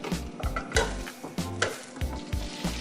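Flour is stirred into a whole stick of melted butter to make a roux for mac and cheese, giving rhythmic scraping strokes with a soft sizzle, close and steady, several quick pulses per second.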